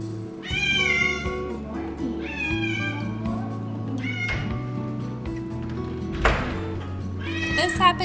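A pet cat named Bear meows repeatedly, several drawn-out, rising and falling calls spaced across the span, close and fairly loud over a low steady background hum with a brief thump near the end.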